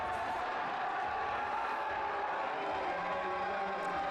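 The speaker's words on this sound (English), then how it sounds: "Good crowd here in Marietta, Georgia at Life University." Steady crowd murmur fills an indoor arena at a college wrestling dual meet at Life University in Marietta, Georgia, a continuous broad wash of voices with scattered whoops, no single voice standing out.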